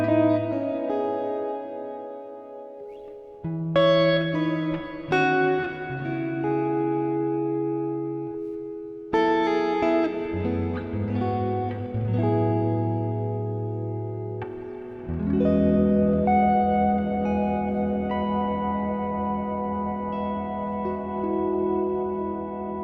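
Sustained musical notes and chords drenched in plate reverb, with smooth, dense tails blooming after each phrase and filling the gaps, played loudly and alone without any voice.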